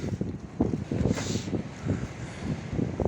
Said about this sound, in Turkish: Gerçekten inanılmaz esiyor.